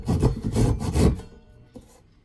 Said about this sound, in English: Now that's just sawing nicely.